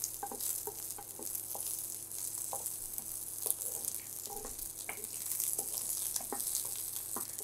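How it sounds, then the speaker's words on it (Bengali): About ten garlic cloves sizzle in hot oil for a cauliflower bhorta, a steady bright frying hiss with scattered pops and occasional stirring clicks, no voices. "আমি এখানে 10 কোয়ার মতন রসুন নিয়েছি, এটাও ভেজে নিব"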